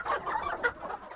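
Chickens on a poultry farm raising fast-growing Caledonian broilers cluck steadily and close by, with overlapping calls forming a continuous busy flock chatter.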